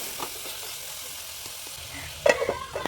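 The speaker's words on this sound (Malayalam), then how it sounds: "ഉള്ളി നല്ലോണം വഴൻ്റതിന് ശേഷം തക്കാളി ഇട്ട് ഇതുപോലെ ഇളക്കി ഒന്ന് മൂടി വെക്കുക" Tomatoes being stirred into sautéed onions in a pan, a quiet sizzle running under a few soft scrapes, with a louder clatter of utensils near the end.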